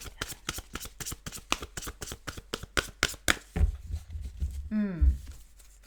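Close, rapid riffling and slapping of tarot cards being shuffled in quick rhythmic bursts, followed by a few softer handling sounds, with a brief voice sound near the end.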